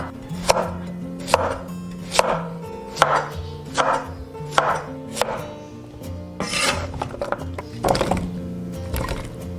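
A kitchen knife chops a peeled radish into rolling-cut chunks on a cutting board, about a dozen sharp thuds at an uneven pace, close and crisp, with faint rubbing between strokes.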